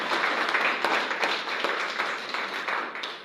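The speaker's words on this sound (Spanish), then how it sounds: "Un aplauso para el Señor." A church congregation applauds together at a Spanish-language service, steady dense clapping from many hands that stays loud throughout, with faint voices mixed in.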